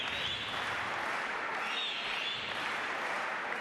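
A crowd roars steadily through a FIBA AmeriCup qualifier basketball game between Paraguay and Uruguay, a continuous, dense wash of cheering and applause from a large arena, with no break.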